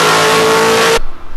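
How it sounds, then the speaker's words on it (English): A Ford Raptor truck's V8 engine roars loudly at high revs for about a second, then cuts off abruptly, leaving a faint low rumble. "nothing beats the sound of a V8"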